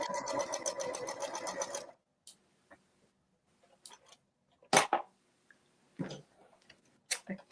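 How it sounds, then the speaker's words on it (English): A sewing machine stitches rapidly for about two seconds, then stops, followed by scattered clicks and taps, with a voice speaking intermittently. "I love the sound of a sewing machine."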